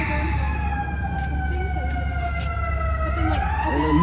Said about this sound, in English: this is the first siren I've heard today. Fire truck emergency.